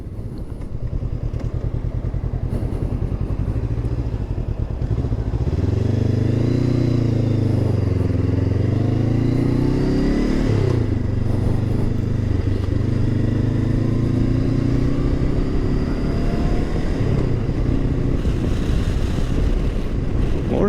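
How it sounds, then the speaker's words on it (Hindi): Honda CB500X motorcycle ridden on the road, its engine droning steadily and loudly with rising and falling revs through gear changes, wind rush constant and close. "अब जैसे बाइक चल रही है"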